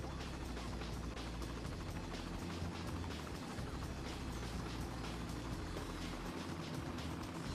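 A helicopter flies over a city-building game in Cities: Skylines, a faint continuous rotor whir with a busy, dense background and no clear speech.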